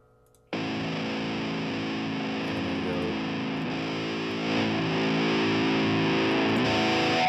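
Metal rhythm guitar through the Pod Farm amp simulator gives a sustained, heavily distorted chord or drone that starts abruptly and holds steady and loud for several seconds, with no talking.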